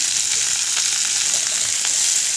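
Chopped tomato and green chilli frying in a pan, a steady close sizzle with soft crackles and occasional stirring scrapes throughout, no voices.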